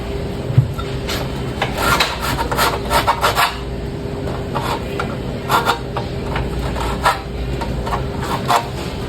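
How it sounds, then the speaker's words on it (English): A metal file rasps across the cut edge of a telepole, deburring the metal in a series of quick, uneven strokes close to the mic, with brief pauses between bursts. "I just take a file, deburring any metals"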